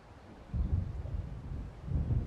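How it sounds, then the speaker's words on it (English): Thunder from an approaching storm in a video game, a low rolling rumble that swells in two loud waves with no voices over it. "It seems there's a storm coming."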